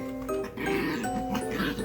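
A small dog, upset and worked up, gives a short run of grumbling, whiny vocalizations, close and fairly quiet, lasting under two seconds.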